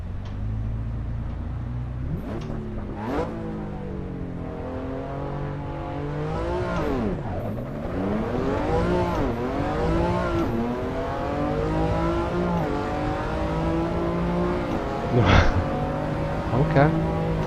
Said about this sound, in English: Now let's do a lap at Imola in the BMW.